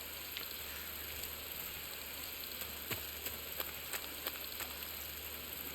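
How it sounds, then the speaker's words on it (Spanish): Steady rain hiss in the jungle setting of Metal Gear Solid 3, with faint scattered drip-like ticks over a constant soft wash, quiet and continuous without speech. "Está lloviendo"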